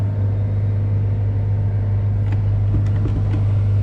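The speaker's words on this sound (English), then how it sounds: "Let's take a quick little ride on the excavator." A John Deere 85G excavator engine runs steadily at close range, a strong low rumble with a droning hum and a few faint clanks of the machine moving, no talk.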